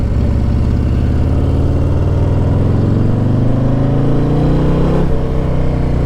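A 2024 Harley-Davidson Low Rider ST with a Stage 4 Screamin' Eagle kit revs loud and close, its rumbling V-twin climbing steadily in pitch over several seconds with no talking.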